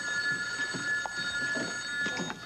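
An old-style telephone rings in a diner, a steady trilling bell tone running through the whole moment, with faint room activity beneath it.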